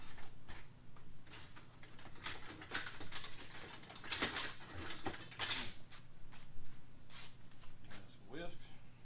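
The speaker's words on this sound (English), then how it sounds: "we're going to get a whisk, and we're going to whisk this yolk up" A wire whisk beats egg yolk with lime in a bowl, making quick, close metallic scrapes and clinks in uneven bursts while a person talks over it.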